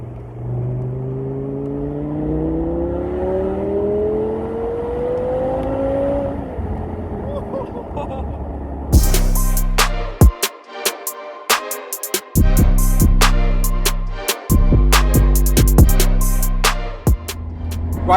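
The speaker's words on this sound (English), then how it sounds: "the downshifts just sound so good." Audi R8 GT V10 with a Milltek exhaust, first a rising engine note under wind buffeting, then a run of sharp loud cracks and pops on the downshifts, close and bursty, with voices talking.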